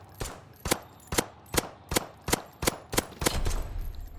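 Gunfire in the video game Fortnite: about nine evenly spaced sharp shots in a steady rhythm, loud and close, with a denser burst near the end and no talking.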